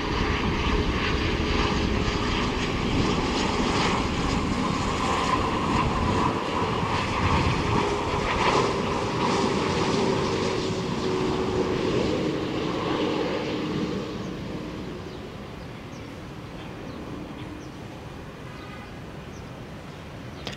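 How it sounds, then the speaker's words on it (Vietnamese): A Sun Air business jet lands at Tan Son Nhat airport, its engines a steady, loud roar that holds for a long stretch before gradually fading into the distance. "mời mọi người chiêm ngưỡng hạ cánh của chiếc máy bay của hãng không Sun Air này nha"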